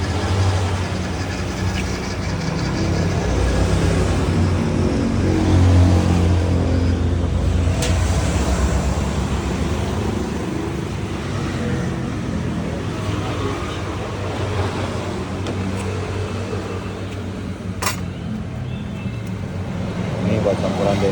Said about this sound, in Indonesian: ini mesinnya nih